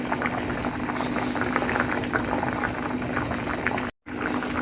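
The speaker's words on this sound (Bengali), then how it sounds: "আলুর দমে আমার বলক এসেছে।" Aloo dum potato curry boiling hard in a pot over high heat, a steady close bubbling and sputtering that runs throughout, with one brief dropout near the end.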